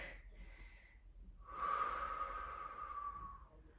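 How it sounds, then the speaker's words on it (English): Slow, steady breaths during a sun salutation yoga flow: a softer inhale, a short pause, then a longer and louder audible exhale lasting about two seconds. The breathing is close and heard alone, with no talking. "Breathing here."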